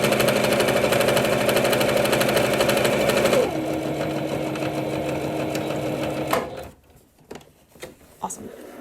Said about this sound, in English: So I'm going to start sewing. I'm going to do a little back stitch, and I'm just going to sew all the way along.